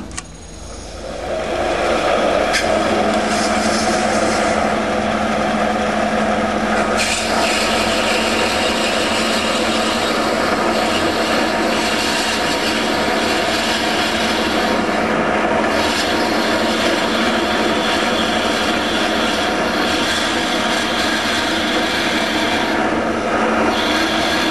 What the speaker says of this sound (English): So this is our core drill.